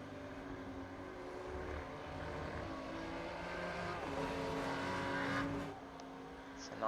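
Race cars in an iRacing endurance race at Le Mans, a supercar running among GT3 cars, drone past with rising and falling engine tones at moderate level, fading out near the end.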